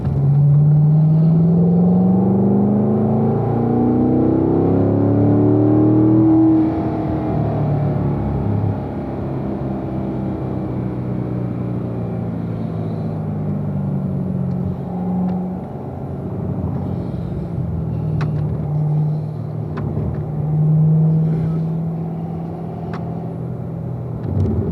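A Corvette held in fourth gear on a lap of the Spring Mountain track, its engine a loud, steady drone that rises and falls in pitch through the corners, heard close from inside the car with no talk.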